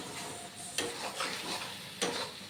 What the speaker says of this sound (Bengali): এইবারে নেড়ে চেড়ে নেব